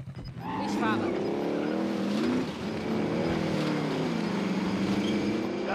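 Engine of a car in a shooter video game, a steady loud drone with rising and falling pitch as it drives on without pause, and a voice talking faintly over it.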